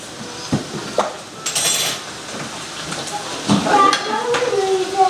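A spoon scrapes and clinks against a pot while salt and pepper are stirred into a pizza casserole, irregular metallic knocks over a faint sizzle.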